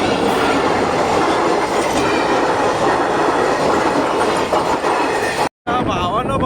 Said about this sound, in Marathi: नेमकं रेल्वे आली